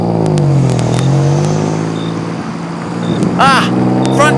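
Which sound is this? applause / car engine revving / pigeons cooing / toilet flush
car engine revving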